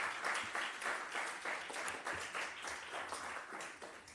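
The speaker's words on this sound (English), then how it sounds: "For presenters, a round of applause." A crowd applauding presenters at a health research conference, dense overlapping claps that hold for several seconds before tapering slightly, no talking.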